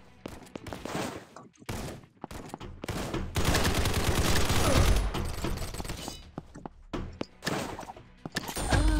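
Rapid bursts of automatic gunfire and shotgun blasts in a Turkish online shooter game, loud volleys broken by short gaps, with a sustained stretch of heavy fire in the middle.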